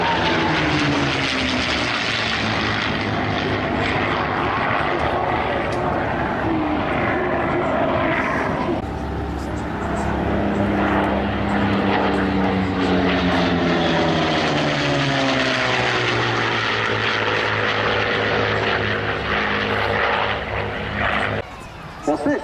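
A Spitfire with a Rolls-Royce supercharged engine roars past at an airshow, the loud propeller drone swelling and shifting in pitch as it passes, with a commentator talking over it.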